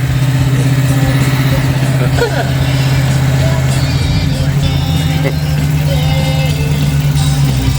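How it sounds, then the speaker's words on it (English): A classic car's engine runs loud and steady at an outdoor classic car show, its tone lifting slightly as it revs, with voices talking faintly nearby. "Give it a rev."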